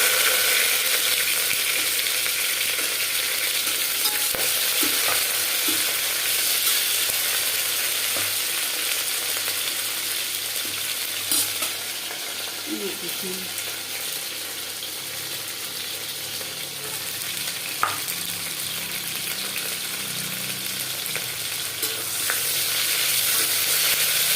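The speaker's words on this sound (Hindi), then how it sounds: "और एक बार फ्राई कर ले।" Jackfruit pieces sizzling and frying in a pan for a desi-style sabzi, a steady broadband crackle throughout with occasional stirring scrapes, close and continuous with no talking.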